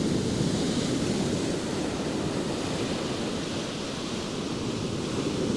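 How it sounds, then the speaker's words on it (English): Sea waves crash against the metal groynes and sea defences at Caister-on-Sea, Norfolk, a steady broadband roar of surf, loud and close, with no voices. "I can kind of guess when the waves are going to be coming up as well"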